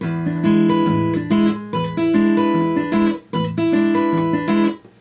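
An acoustic guitar fingerpicks a bluesy chord pattern from Deep River Blues with a steady alternating bass, clear and close, with short pauses between phrases.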